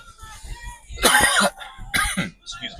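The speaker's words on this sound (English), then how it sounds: "Excuse the cough there." Two loud, close coughs from a person inside a Tesla Model Y, the first longer and harsh, the second shorter, over a quiet cabin with faint road hum.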